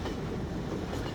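A train riding along the rails in Garry's Mod gives a steady, close rumble with a faint rhythmic clatter, running without a break from start to finish.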